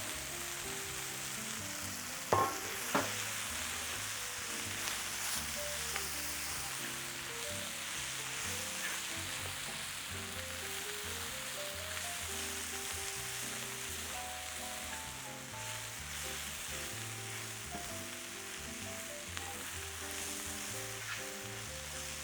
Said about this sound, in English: We're going to also go ahead and add the mushrooms in there also.